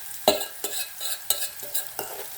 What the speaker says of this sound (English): We are going to fry red onions in a different sufuria or pot